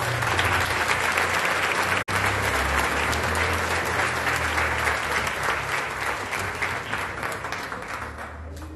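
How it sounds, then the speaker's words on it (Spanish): Strong audience applause at a municipal political swearing-in event for Movimiento Ciudadano, loud and sustained crowd clapping with a brief dropout early on, then gradually fading toward the end. "para el cual pido un fuerte aplauso."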